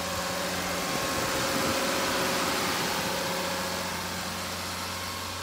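A 2007-or-later Mercedes Sprinter diesel engine runs steadily at raised speed during a manual particulate-filter regeneration, a continuous close, even drone with a faint tonal hum throughout and no voices.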